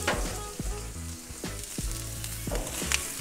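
Onion strips frying in a little clarified butter on a grill plate, a steady close sizzle with soft scraping stirs and a few louder crackles, no voices.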